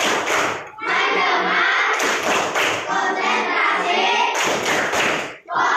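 A classroom plays the tepuk fokus rhythmic clapping game. Sharp bursts of group clapping alternate with a chanting voice in a close, loud, patterned rhythm.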